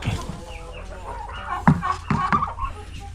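Turkeys and chickens call nearby with a few short clucks and gobbles, faint voices murmuring in the background.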